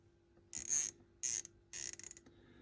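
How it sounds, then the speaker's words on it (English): Chrome-plated SK round head ratchet handle clicking in three short bursts of rapid ratcheting, close and fairly quiet, the last burst breaking into separate clicks. "So we have this round head ratchet handle, very nice chroming"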